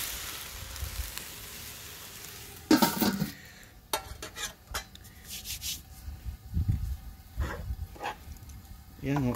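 A pot of blue crab and vegetables bubbling and simmering in coconut milk, with stirring and scraping of a utensil, a voice talking over it now and then.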